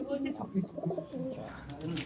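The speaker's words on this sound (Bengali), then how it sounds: "ধাড়ি পায়রা।" Adult Madrasi pigeons coo in a loft, soft low rolling calls repeating close by over a steady murmur, with a voice talking faintly in the background.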